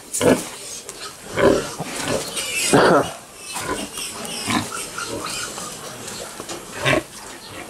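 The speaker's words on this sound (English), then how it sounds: "You're a good pig." Repeated low pig grunts and snuffles come in bursts close by on a farm, with a few louder snorts spread across the stretch.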